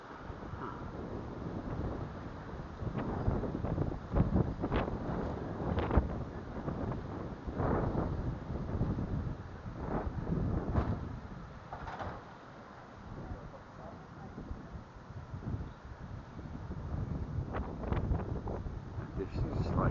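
Strong 28 mph wind gusts outdoors in Martinez, California, roaring and buffeting the microphone in a continuous low rumble that swells and eases with each gust.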